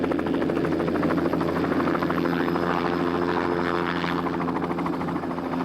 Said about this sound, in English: Pit Otto will be using the helicopter to try and shepherd the animals into the boma